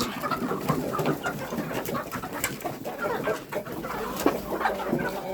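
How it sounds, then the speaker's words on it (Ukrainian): Chickens cluck in a steady, busy stream of short calls, several birds close by, with faint rustling and outdoor background. "Так, кури, ну дайте я пройду."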